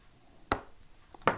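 Two sharp, crisp snaps of a mosaic piece being cut off with a tool, close and quiet, spaced less than a second apart over near silence.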